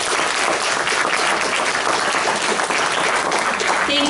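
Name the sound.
audience applause for panel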